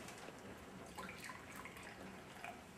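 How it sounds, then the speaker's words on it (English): Brewed green tea is poured out, a faint, light trickle and splash of liquid that runs steadily with a few brighter drips, quiet and close, with no talking. "Pouring out the tea,"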